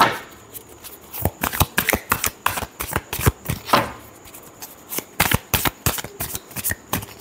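Tarot cards being shuffled by hand, repeated quick riffling bursts in an uneven rhythm, close and crisp with no talking.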